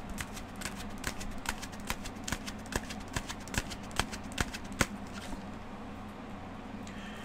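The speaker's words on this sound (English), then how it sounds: "I'm going to pull one more card" Tarot cards handled and slid from a deck for a small spread, giving a run of quiet, crisp clicks and flicks in an uneven rhythm, close and faint, with a soft shuffle fading out near the end.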